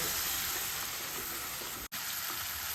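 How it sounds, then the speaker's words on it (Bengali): A paste of turmeric and ground coriander fries in hot oil, giving a loud, steady, close sizzle that briefly cuts out for an instant. "অল্প পরিমাণ হলুদ, আর ধনে গুঁড়ো দিয়ে মশলাটা ভালো করে আমি কষিয়ে নেব।"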